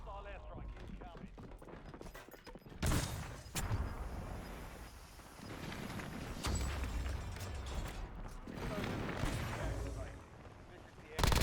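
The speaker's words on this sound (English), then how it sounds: "Hostile airstrike incoming." Heavy airstrike explosions and artillery booms in a shooter video game, a series of loud, sharp blasts spread across the stretch with rumbling tails and scattered gunfire, a voice briefly audible among them.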